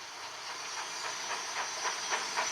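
Cartoon steam engine at a busy wharf giving a steady loud hiss of steam, with faint rhythmic puffs pulsing through it.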